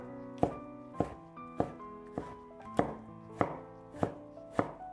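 A knife chops a tomato into small dice on a cutting board, striking eight times in an even, unhurried rhythm, each blow a crisp close thunk over soft background music.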